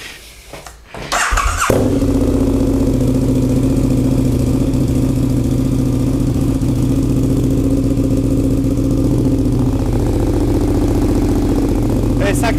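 A 1290 motorcycle engine cranks and fires after a brief mechanical rattle, then settles into a loud, steady, throbbing idle that continues for about ten seconds close by.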